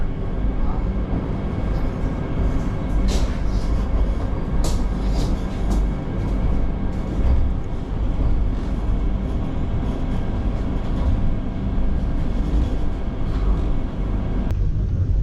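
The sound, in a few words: Vande Bharat Express train departing Howrah station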